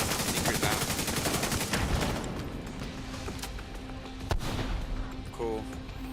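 Slow, single rifle shots ring out in The Division during a firefight, a few sharp cracks spaced apart over a dense, busy game soundscape, with a louder report near the end and a voice talking throughout.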